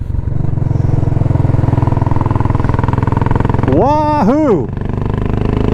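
A Royal Enfield Classic 500 motorcycle fitted with a BSA muffler thumps steadily at idle nearby, loud and close. A man whoops loudly partway through, over the engine.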